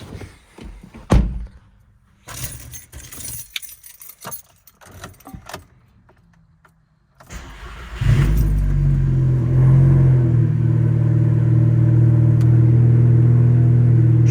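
Keys jangle and rattle with handling noises before a car engine cranks, catches and settles into a loud, steady, low idle that carries on to the end, with no talking.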